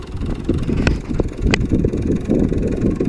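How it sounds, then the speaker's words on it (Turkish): Steady rumbling wind buffets the microphone outdoors in a field during tractor sowing, a constant blustery roar with a few faint clicks over it. "Havada biraz rüzgar umarım sesinde anlaşılıyordur."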